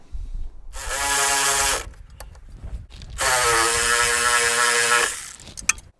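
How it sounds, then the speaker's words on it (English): A power ratchet tightens the nut on a Toyota sway bar link in two sustained whirring bursts, each lasting one to two seconds, separated by a short pause with a few light mechanical clicks. "you can just get one thread or two threads started, and then you can tighten the nut"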